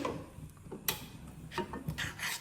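A spoon or ladle scrapes and rubs around a pot while palm fruit payesh is stirred, irregular soft scraping strokes, close but quiet.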